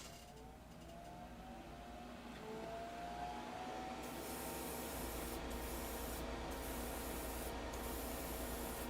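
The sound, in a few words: spray priming a model kit part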